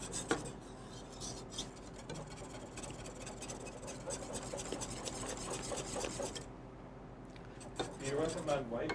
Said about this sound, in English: You have to keep mixing it, stirring your sauce constantly so the cheese doesn't stick to the bottom of the pot.